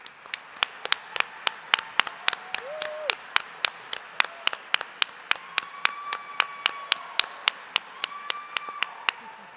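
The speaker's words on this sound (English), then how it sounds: "Please join me in a round of applause for Indy's best and brightest education and nonprofit honorees" Steady, evenly spaced claps ring out through a quiet hall at an awards presentation for education and nonprofit honorees, with faint voices underneath.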